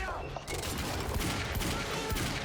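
Heavy pistol fire in Quantum Break rings out in rapid, dense volleys amid a loud, busy game battle, with constant crackling shots and impacts and no pause.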